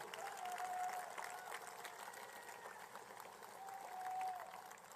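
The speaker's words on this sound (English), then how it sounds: "Please stand and let us applaud you also." An audience at a presidential swearing-in ceremony in Guyana applauds, a quiet, distant wash of clapping that swells slightly near the start and end under a faint tonal hum.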